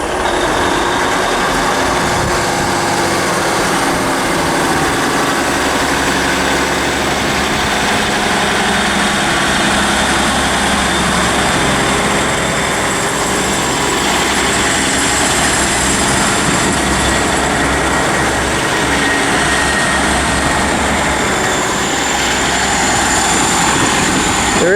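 A Northern train on the 13:30 Liverpool Lime Street to Manchester Airport service passes through Liverpool South Parkway station, its diesel engine rumbling loud and close in a steady, unbroken roar throughout.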